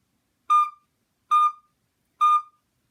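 A recorder is played gently with soft, whispered breath, sounding three short, clean notes evenly spaced and moderately quiet, with no voices over them.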